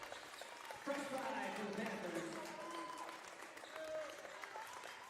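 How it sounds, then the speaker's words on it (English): Panther fans at a high school boys' varsity basketball game applaud the starters after a championship win, a soft, distant wash of crowd clapping that runs steadily under a commentator's voice. "And the starters will get a round of applause from the Panther fans on their championship win."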